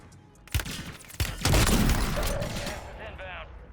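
Sniper rifle fire in the Warzone game on Rebirth Island using a MORS loadout, with two sharp loud cracks followed by a heavier burst and rumbling, fading into softer in-game effects.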